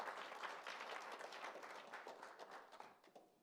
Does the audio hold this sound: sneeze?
no